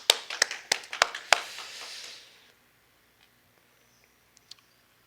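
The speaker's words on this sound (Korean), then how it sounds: "우리 감사의 박수 드리도록 하겠습니다" A small church congregation gives a short round of thanks with a handful of sharp, distinct claps that quickly die out, followed by near silence broken by a couple of faint taps.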